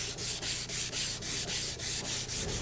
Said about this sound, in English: In sanding, I want to make especially sure that the ends of the boards are smooth where the joints meet.